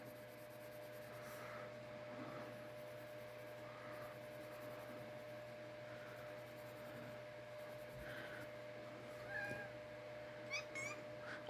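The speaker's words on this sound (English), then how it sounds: "Sorry, my cat." A cat with its claw caught meows a few times, faint at first and growing more urgent toward the end, against a steady low indoor hum with light scratching.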